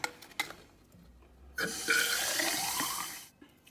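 Water from a tap runs over a Vaillant ecoTEC boiler part as it is rinsed during a service, a steady splashing flow lasting about two seconds after a few light knocks, then stopping.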